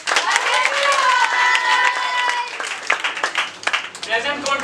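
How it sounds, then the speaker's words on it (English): Students in a classroom give a round of applause, scattered claps heard under and between voices talking. "Guys, give a round of applause."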